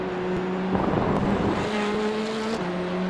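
A touring car from the British Touring Car Series drones through an onboard lap, a steady loud engine note holding pitch, then dipping and climbing again as it shifts, with road roar underneath and no voices.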